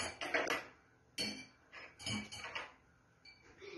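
Several metallic clinks and clatters as metal spoons drop into a glass jar of water, in two or three bursts with short pauses between.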